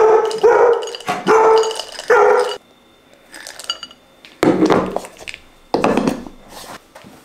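A one-year-old dog barks excitedly at its kibble in loud bursts, close by, with pauses between, while dishes and a bowl clatter in the gaps.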